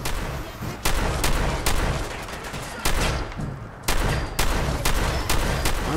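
Gunfire in Fallout 4's Nuka World, a rapid series of sharp, loud shots fired in clusters, with a brief lull midway before the shooting resumes.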